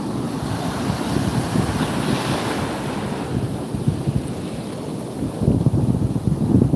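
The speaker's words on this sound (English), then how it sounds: "See how that wave came up? Just go back and forth." Ocean waves wash onto Navarre Beach, Florida, surf rushing and hissing up the sand in steady close washes, with gusty wind buffeting the microphone and no voices.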